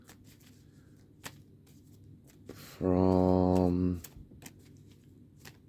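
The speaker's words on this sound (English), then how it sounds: "And I will pull three cards out" Cards are pulled from a deck for a card reading: soft, close slides and flicks of card stock come in scattered bursts, with a brief tonal hum near the middle and a single spoken word.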